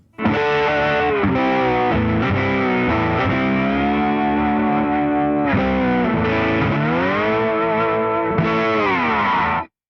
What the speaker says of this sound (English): Usually when I play slide, I don't use a pick.